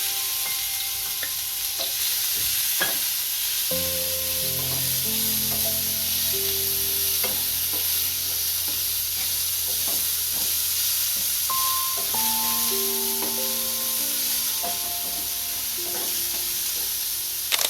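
Onions and cumin seeds frying in hot oil, a steady close sizzle with stirring clatter, while a tonal hum or music sits underneath.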